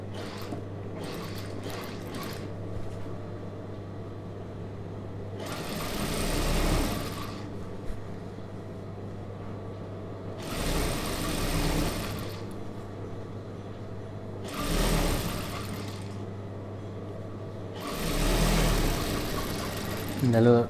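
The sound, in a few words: sewing machine stitching a churidar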